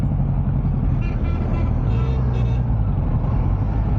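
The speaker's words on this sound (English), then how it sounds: "To get stuck in the traffic in this heat." Dense city road traffic in hot Ahmedabad, Gujarat, rumbles continuously around a rider on a 2025 Kawasaki Ninja 1100SX, with close engines idling and creeping and a few faint horn-like tones over the steady din.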